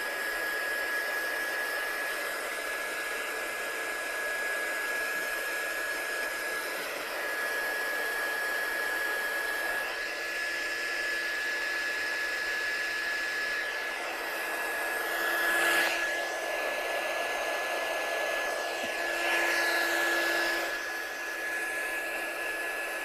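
A heat tool or hair dryer blows steadily and loudly on a watercolour stamped handmade card, a constant whooshing airflow with a thin steady whine, lasting the whole stretch with slight swells and no talking.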